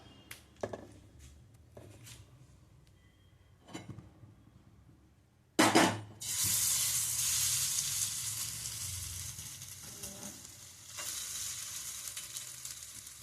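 Marinated Kerala masala fish set onto a hot tawa bursts into a sudden loud sizzle that settles into steady close frying hiss, after a few quiet clinks of handling.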